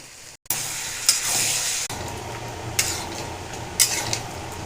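Chicken hitting hot oil and ground spices in a pan for chicken kasa, a sudden loud sizzle that holds strong, broken by a few sharp metallic scrapes of stirring.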